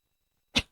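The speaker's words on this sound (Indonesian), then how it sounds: "bentar batuk" A single short, sharp cough sounds close by in near silence, over in an instant.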